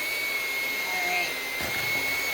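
An electric mixer whirs steadily while it mixes cake batter, a constant close motor drone with a faint high whine. The drone dips slightly partway through and carries on.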